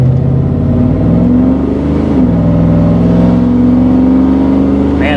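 A project car with a new engine, transmission and differential revs loudly while driving, a continuous close, droning engine roar that rises and falls in pitch throughout.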